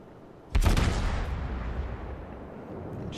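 The Moskva, a Tier 10 Russian cruiser in World of Warships, fires a salvo of naval guns: one sharp, heavy boom cracks out and then rolls into a long rumbling decay.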